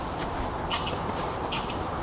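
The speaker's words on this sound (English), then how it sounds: "geese again." Geese give a couple of brief, somewhat distant honks, spaced apart over a steady outdoor background hiss.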